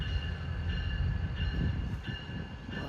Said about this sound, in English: This looks like an FRA inspection train coming here with SpongeBob leading